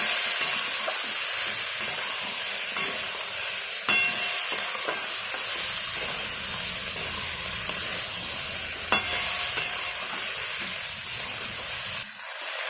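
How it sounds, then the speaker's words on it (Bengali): Spices, cucumber and prawns fry in a pan with a steady, loud hiss and sizzle, while occasional sharp spatula knocks mark the stirring throughout. "এবার আমরা সব কিছু মশলা দিয়ে মিশিয়ে নিচ্ছি"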